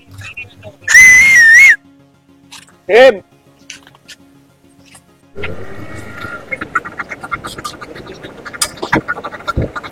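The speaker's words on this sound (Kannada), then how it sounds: "ಅವ್ರನ್ನ ವಿಷಲ್ ಹೊಡೆದು ಕರೀತಾ ಇದೀವಿ" Sharp whistle blasts carry across a crowded boat trip in Pondicherry, calling people back: one long bright whistle, then a short rising one, followed by busy crowd chatter and bustle.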